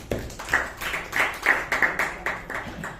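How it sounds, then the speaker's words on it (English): A small meeting audience gives a round of applause for a speaker and evaluator, a thin, uneven patter of a few people clapping in separate bursts, close and sparse. "A round of applause to the speaker and the evaluator."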